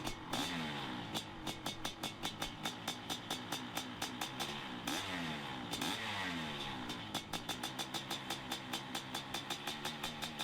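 A 500cc two-stroke motocross motorcycle, a Honda CR 500 or Kawasaki KX 500, revs repeatedly and loudly close by. The sharp throttle blips rise and fall in a steady rhythm over a continuous engine drone.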